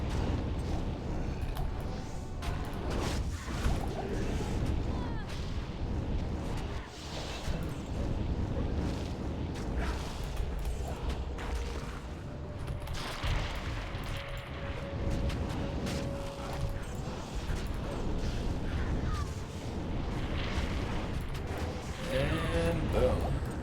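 Fire Druid Volcano skill eruptions in Project Diablo 2 make a dense, loud wall of rumbling blasts and booms that continues throughout with little pause.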